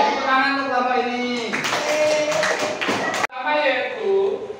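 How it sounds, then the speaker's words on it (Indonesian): A short burst of clapping from a group, lasting under two seconds, set between stretches of a voice talking. "tepuk tangan untuk kelompok ini"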